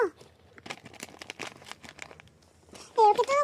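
Paper or plastic packaging from a hobby-goods exchange parcel crinkles and tears open close by, with sharp rustling bursts strongest near the end; someone talks over much of it.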